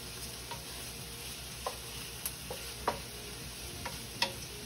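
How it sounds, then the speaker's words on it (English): Garlic and onion sauté quietly in a pan, a soft continuous sizzle broken by several sharp ticks and scrapes of a utensil against the pan, close but low in level. "We're going to saute."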